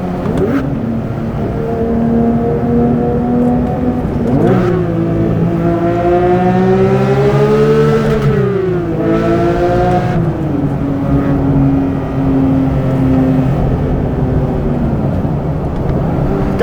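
High-revving Porsche 911 GT3 engine droning above about 5,000 rpm on the highway, loud and close from inside the cabin, with rising and falling harmonic pitch as revs climb and shift, no talking.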